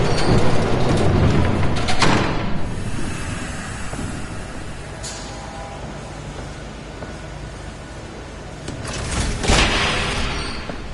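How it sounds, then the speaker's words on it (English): A low mechanical rumble of an approaching train in a video game, with broadband noise swelling and receding, a louder rush near the start and another swell toward the end. "There's a train coming."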